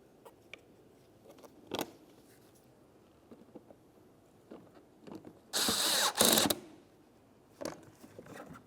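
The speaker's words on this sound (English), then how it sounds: "put in our Phillips head mounting screw" A Phillips head mounting screw is driven into a front bumper cover on a 2006-2011 Honda Civic, heard as a loud, close burst of power-driver whirring lasting about a second, set between scattered softer clicks and handling taps.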